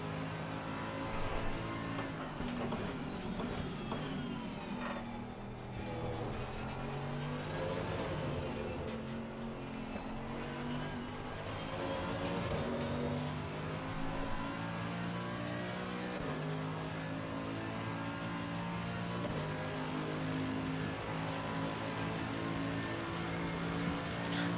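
A BMW M4 race car engine at full throttle beside the pit wall at Kyalami in a racing simulator, a loud sustained drone with shifting harmonics and echoing reverberation throughout, no speech.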